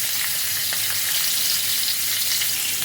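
Eggs frying in oil, a loud, dense, continuous sizzle that holds steady and close for the whole stretch with no pauses.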